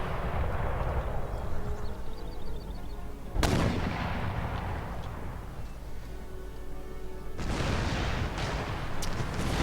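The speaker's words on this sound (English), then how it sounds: "So I want my artillery to target them." Cannon fire from an 18th-century Prussian battle in Empire: Total War rumbles under a dense wash of musketry and battle din, with two sharp, loud artillery blasts cutting through the continuous roar.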